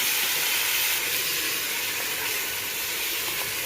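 Marinated mutton sizzles hard in a hot pan with chilies while cooking a Hyderabadi mutton biryani, a steady, close, bright hiss that runs unbroken through the short stretch with no talking.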